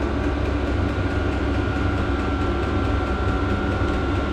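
Vevor diesel heater running inside a 6x12 enclosed trailer, a loud, constant roaring hum with a steady whine and no pauses.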